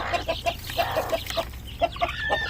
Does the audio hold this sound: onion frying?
no